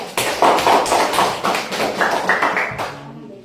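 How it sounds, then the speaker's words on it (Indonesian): Children in a classroom give a round of applause, with a dense burst of rapid hand claps that holds steady for a few seconds before tapering off. "Coba beri tepuk tangan untuk Ede."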